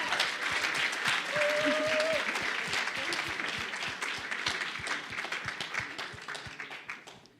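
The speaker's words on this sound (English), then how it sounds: "Round of applause for Matvi." An audience at the AVPA membership launch event applauds, sustained clapping with distinct individual claps audible, while voices and a brief whistle or cheer rise over it and the applause gradually thins out.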